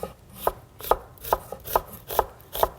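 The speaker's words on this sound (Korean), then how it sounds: "이렇게 해서 채를 편안하게 채를 썰어 주시면 돼요" A knife julienne-slicing onion into strips on a cutting board for a kimchi side dish, with six evenly spaced, crisp chops close by and no talking.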